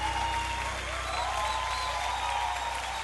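Church congregation applauding steadily and continuously at a worship service, a broad even clapping wash with a faint voice or tone in the background.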